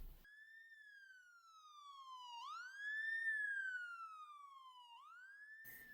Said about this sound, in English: I made a scene with an ambulance that I can spawn with a siren on